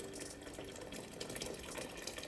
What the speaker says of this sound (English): Along with that, we add 6 cups of boiling water.